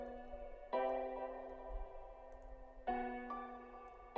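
Sustained synth tones with a long, washy reverb tail, new chords entering twice over a lingering ambient decay.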